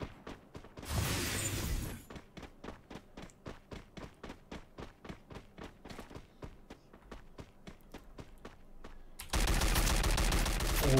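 Rapid gunfire from a Free Fire battle royale match rings out in a long steady string of evenly spaced shots, with denser bursts of shooting near the start and at the end.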